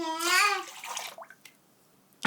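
A cup of warm milk is poured for making dough, a short liquid pour with a rising gurgling tone. A few faint drips and small sounds follow in near silence.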